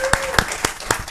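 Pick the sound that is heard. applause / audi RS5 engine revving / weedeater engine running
applause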